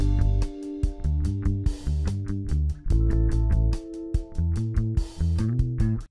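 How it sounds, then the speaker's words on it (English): Spacious, wide 1970s-style electric piano chords play in a steady rhythmic pattern with repeated struck notes and sustained tones, bright and reverberant, with no talking. "All right, so now I have these very spacious, wide 70s piano sounds."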